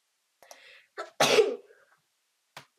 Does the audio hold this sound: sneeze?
yes